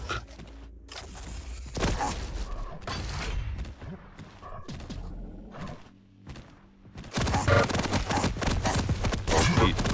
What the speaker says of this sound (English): These rockets are not connecting.